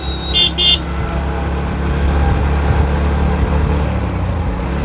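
A CNG auto-rickshaw behind a moving Yamaha FZX 2024 motorcycle gives two quick, sharp horn toots at the start, followed by a constant low rumble of engine and traffic.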